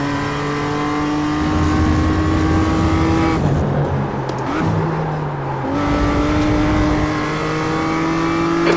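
A BMW M2 CS race car in the iRacing sim at Laguna Seca, its engine howling loudly near and steady, dropping on a downshift, running lower, then climbing again on acceleration.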